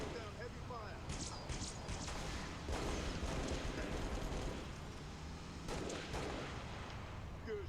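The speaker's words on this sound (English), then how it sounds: "Laying down heavy fire." Heavy gunfire in Halo Reach, a dense, continuous battle din with sharp bursts of shots rising above a steady roar, close and loud throughout without letup.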